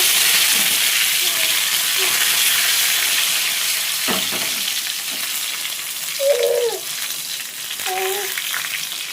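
Spices, dried red chillies and curry leaves sizzle in hot oil as a tempering for tomato dal, a loud, dense hiss held close up throughout, with a few faint clinks and a brief voice underneath.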